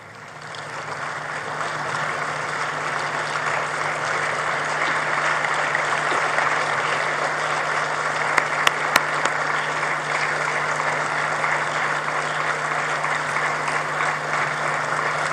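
Sustained applause from an audience rising to welcome guests of honor at a nuclear energy summit opening ceremony in Kigali, a steady dense wash of clapping that holds evenly throughout with a few sharper claps near the middle.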